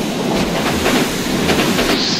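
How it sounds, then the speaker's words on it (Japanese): A commuter train arrives nearby with a loud steady rumble and rhythmic clatter of wheels on track, filling the scene without any talking. "お、電車が来る。"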